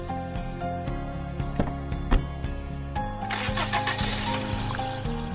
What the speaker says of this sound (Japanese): 荒々しい車の走行音が遠ざかってゆく